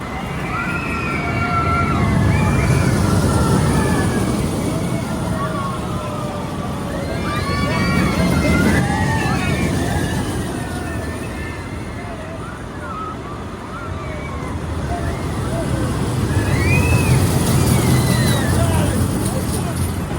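Riding Grover's Boxcar Derby, a kiddie roller coaster at SeaWorld Orlando: steady wind rush and rolling rumble throughout, swelling and easing in waves, with children's shrieks and chatter from riders on top.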